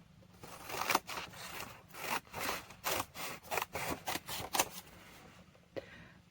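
Long scissors snip through paper scraps in a run of quick, crisp cuts, each a short rasping burst, close and fairly quiet, with brief pauses between strokes and no voices.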